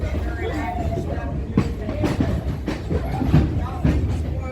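A passenger train rolls along its tracks during a ride, a steady low rumble broken by sharp, rhythmic clacks of wheels over rail joints, heard from close by inside the car.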